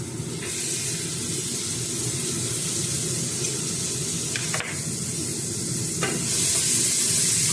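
Plenty of onions hiss and sizzle in a pan while being stirred for magluba, a steady close frying sound broken by a few scraping strokes.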